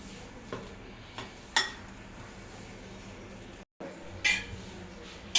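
A spoon mixes chilli powder, masala, turmeric and salt in a bowl, making a few scattered metallic clinks and taps over a quiet, low background, with a brief dropout near the end.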